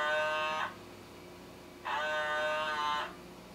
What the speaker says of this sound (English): That noise you heard was the motorized internal calibration lowering the weight inside